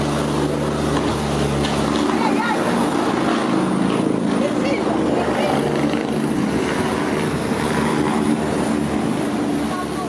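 A helicopter's loud rotor drone and engine whine fill the recording continuously, close and steady, with a voice speaking over it, during a rescue training exercise in which it struck high-voltage power lines.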